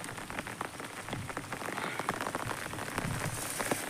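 Heavy rain pours steadily, a dense close patter of drops striking surfaces that stays loud and unbroken throughout, with no voices.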